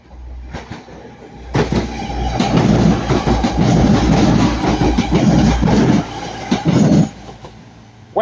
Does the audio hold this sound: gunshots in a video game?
no